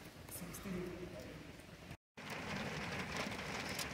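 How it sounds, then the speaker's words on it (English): Heavy rain pours down in Bugibba, Malta, a dense, steady hiss of water on surfaces with a brief cut in the middle, while a voice talks over it. "It's raining. It is raining."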